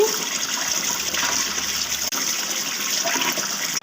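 Fruit being rinsed under a running tap, a steady hiss of flowing water that continues for several seconds with a brief interruption midway.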